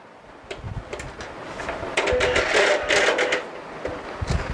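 An Epson TM-U220B dot matrix receipt printer powering up, giving close mechanical buzzing and clicking bursts that swell louder through the middle before tapering off.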